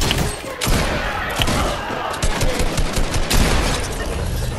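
Rapid gunfire in a Fortnite match, loud and close, with dense overlapping shots and short bursts running throughout.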